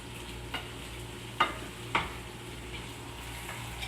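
Beans with seasoning stirred in a pot, a low steady sizzle under a few sharp spoon clinks and scrapes, close and fairly quiet.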